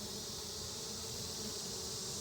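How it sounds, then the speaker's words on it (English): Dense, steady buzzing of many bees swarming close by, a continuous high drone with no pauses. "And there's bees flying all over the place."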